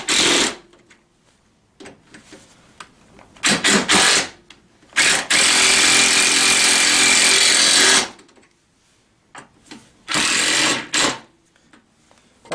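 A power tool drives bolts on a TaoTao CY50A scooter's rear rack during assembly, coming in several close, loud bursts of whirring, the longest about three seconds, separated by quiet handling clicks.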